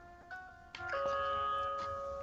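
A short electronic phone text-alert tone taken from the Batman: Arkham Asylum video game, a couple of bright tonal chimes rising and then holding a sustained note, fairly clear and alone.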